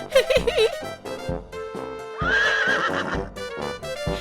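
A horse whinnies in wavering cries over rhythmic hoofbeats, then neighs again in a long high call as the galloping clip-clop continues.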